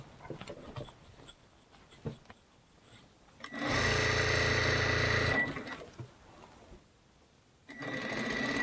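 A home sewing machine stitching the shoulder seam of a linen apron, a loud steady whirring run of nearly two seconds, then quieter handling noises before the motor starts again.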